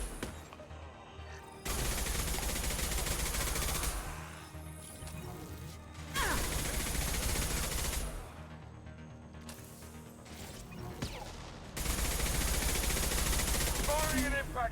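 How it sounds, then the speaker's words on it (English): Impact shot gunfire from the PC game Mass Effect 2 comes in three loud, sustained bursts of crashing shots, each lasting a couple of seconds, with quieter game combat noise between them. "Firing an impact shot"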